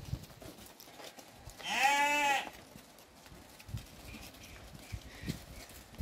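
At a livestock lot with goats and sheep for sale, a single bleat rises clearly for about a second against a soft, rustling farmyard background with scattered small knocks.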